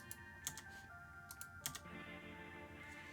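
A few crisp computer keyboard key presses click near and close, spaced out over a steady low hum, with no talking.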